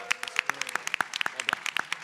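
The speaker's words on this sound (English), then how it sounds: "Let's give him a round of applause." A small audience at a startup competition semi-final claps for a presenter, a sparse run of individual hand claps spread steadily across the moment, with faint voices underneath.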